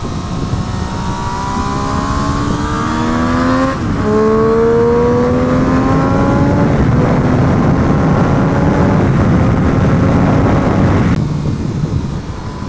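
A Triumph Street Triple R motorcycle rides hard on a race track, its engine note loud and close, climbing in pitch through the gears with quick upshifts and a sustained high-revving howl, no talking.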